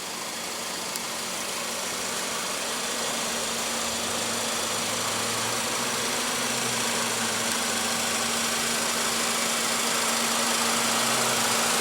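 2015 Volkswagen Beetle with a 1.8 L turbo four-cylinder engine idling, a smooth steady hum with a faint low drone, heard close and unchanging throughout.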